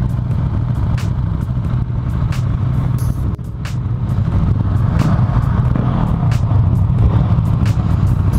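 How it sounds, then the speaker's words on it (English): A 2018 Husqvarna 701 Supermoto motorcycle's engine drones steadily and loudly throughout while riding, with brief clicks and a short dip around the middle. "this Husqvarna 701 Supermoto I'm on"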